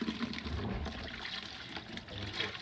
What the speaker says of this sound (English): Let's dump that water out, and let's go with a third little bath.